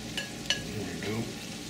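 Onion, chili pepper and garlic frying in a pot, a soft, steady sizzle with a couple of faint clinks of a utensil near the start.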